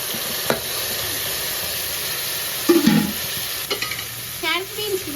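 Tomato, carrot and beans sautéing in a pan for veg pulao: a constant hot sizzle with a few scraping stirs of a spoon and a soft clank near the end, no voices.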